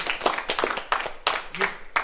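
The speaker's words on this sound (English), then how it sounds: "have a little applause for the absolute butt kicking work to get you this stuff" Scattered applause during a live stream: a few distinct claps in an irregular rhythm from a small number of people nearby, with voices talking in between.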